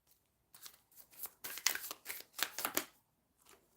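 Tarot cards being shuffled in quick riffling bursts, several crisp papery flurries close to the microphone with short pauses between, no voices.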